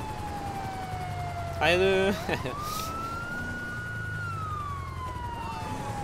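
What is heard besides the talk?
police car siren in video game GTA 5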